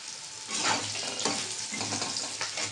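Jackfruit seeds cook in an uncovered pot while being stirred, giving a steady close sizzle with soft scraping strokes throughout.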